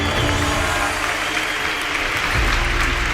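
Audience clapping throughout a comedy-style rant about nerds, a steady dense wash of applause with low rumble, swelling slightly near the end.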